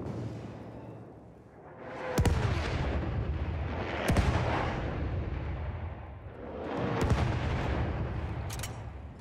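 Artillery barrage in the World War I shooter Battlefield 1, with sharp booming blasts at intervals over a continuous roar of battlefield rumble and distant gunfire, loud and sustained.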